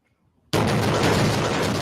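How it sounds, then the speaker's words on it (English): Sudden loud blast in a news recording of bombing in Gaza: near silence, then an abrupt onset into a sustained, roaring, broadband rumble that stays heavy to the end. "explosions in Gaza. Smoke and flames rising from multiple blasts"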